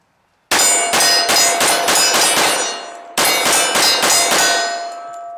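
A steel target rings under rapid Glock 21 .45 ACP fire: two loud volleys of sharp metallic clangs, each hit leaving a sustained bell-like tone that hangs between shots and fades slowly after the last one.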